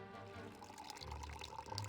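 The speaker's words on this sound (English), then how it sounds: "Pouring tea." Tea being poured in the Genshin Impact video game, a quiet continuous trickle of liquid with a faint splashing texture that swells slightly toward the end.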